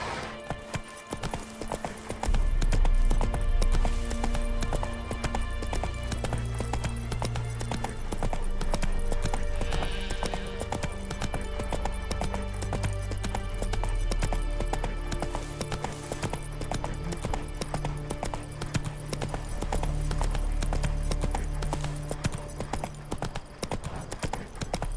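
Roach, a horse in The Witcher 3, trotting with steady rhythmic hoofbeats throughout, close and clear over a swelling orchestral score and game ambience.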